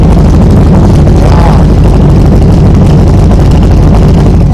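Car exhaust heard up close, a loud steady engine rumble that runs without a break and stays near and strong from start to finish.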